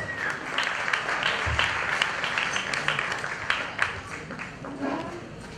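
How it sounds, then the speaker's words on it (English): Audience applause welcoming speaker Kenneth Gomes at a Malayalam community event, a steady wash of many hands clapping close and continuous, with scattered louder claps and no talk over it. "Ladies and gentlemen, please give him a round of applause"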